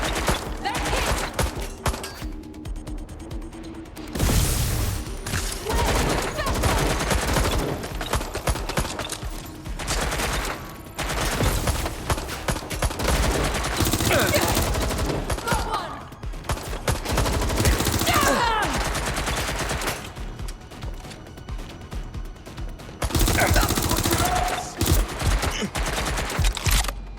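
Gunfire in the video game Watch Dogs Legion, set in London, rattles as loud, sustained machine-gun bursts and scattered shots with brief lulls between volleys, while voices shout over the fighting.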